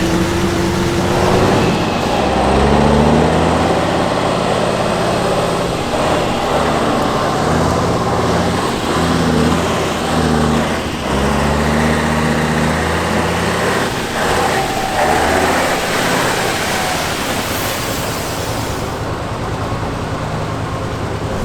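A truck engine drones steadily and loud throughout, driving along an off-road forest track, with shifting low rumble and no voices.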